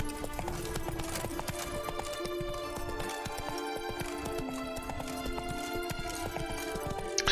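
Roach the horse trotting in The Witcher 3: Wild Hunt's Blood and Wine expansion, a quick, continuous clip-clop of hooves along a path, moderately loud against a bed of ambient game music.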